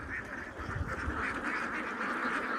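Ducks on a laying-duck farm quack and honk continuously in a noisy flock, the calls overlapping at moderate distance with no clear talk.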